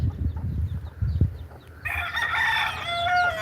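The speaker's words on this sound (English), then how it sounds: "I know my big chickens can take care of themselves, but the little chicks, like Bumblebee, I don't let her sleep out here at night" Backyard chickens clucking and a rooster crowing outdoors in the morning, low clucks at first, then a loud, sustained crow rising over them, close by.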